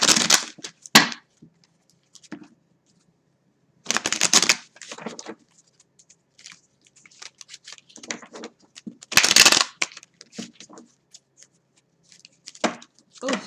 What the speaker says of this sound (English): So let me shuffle these cards here